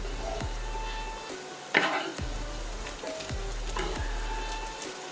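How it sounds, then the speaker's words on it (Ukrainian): Steady sizzling of pumpkin frying in a pan over medium heat, with occasional stirring scrapes and soft clinks, close and moderately loud. "Додаємо вогонь до середнього і обсмажуємо протягом 4 хвилин."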